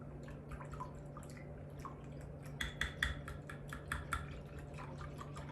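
Soft, quick clinking and swishing of a small whisk stirring liquid in a large container, with irregular bursts of clicks over a faint background hum.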